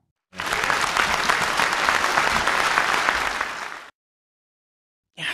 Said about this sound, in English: he gets a heartwarming applause